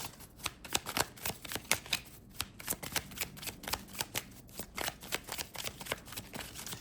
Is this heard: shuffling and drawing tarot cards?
yes